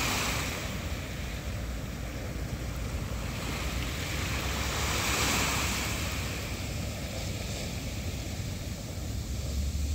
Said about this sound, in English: Bask in that refreshing water that is the ocean.